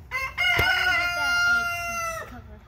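A rooster crows one long, drawn-out call, loud and close, with softer fowl sounds around it.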